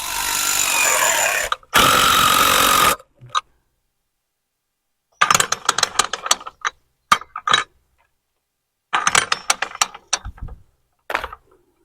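Metal latch being worked into place on a farm job, heard as two long, loud bursts of grinding power-tool noise followed by close clusters of sharp clanks and rattling mechanical clicks separated by silence.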